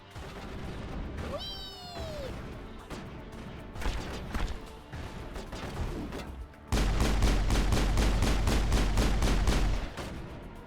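Gunfire in Mass Effect, with scattered shots and game effects early on, then a loud, steady rapid-fire burst lasting several seconds before it cuts off.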